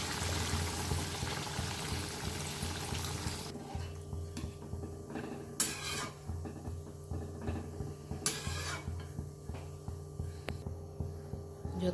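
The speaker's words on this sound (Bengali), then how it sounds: "এখন আমি জল দিয়ে দেবো।" Water poured into a frying bhetki fish curry with potato and eggplant: a broad rushing pour for the first few seconds, then a quieter bubbling simmer with occasional soft splashes, no voices.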